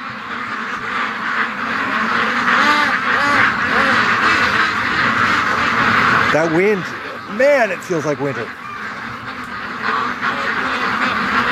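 A flock of domestic ducks in a cold, windy yard quacks repeatedly at close range, with bursts of overlapping calls that grow louder near the end. Someone talks over the birds and the wind.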